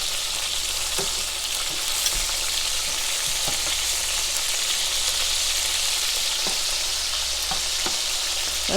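Pork chops lightly coated in oil frying with peppers and onions in a pan over lowered heat, giving a steady, loud, continuous sizzle with occasional small pops and clicks.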